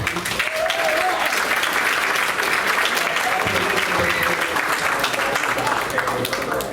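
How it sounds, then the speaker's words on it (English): Steady audience applause honoring a school peer buddies group at a district board of education meeting, a dense continuous clapping that fills the whole stretch with a faint murmur of voices beneath. "So give them a round of applause."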